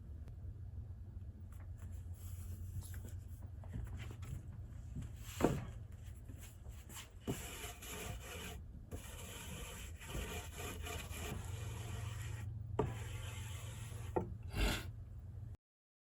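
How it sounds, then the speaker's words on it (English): Paint roller spreading Titebond cold press veneer glue across a wood substrate, heard as steady rhythmic rolling and rubbing strokes over a continuous low hum, with a few brief sharper knocks and no talking. "I'm using Titebond cold press veneer glue, and this is a roller."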